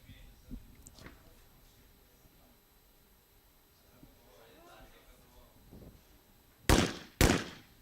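Two sharp, loud shotgun blasts in quick succession near the end at an international skeet shooting competition, with a reverse pair thrown on station 5, following a stretch of quiet commentary and faint background noise.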